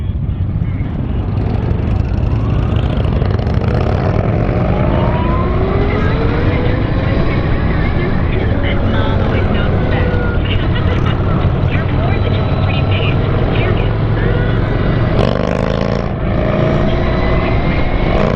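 A Victory Empulse TT electric motorcycle pulls away from third gear, a loud continuous motor whine climbing steadily in pitch under heavy wind rush, with someone talking over it.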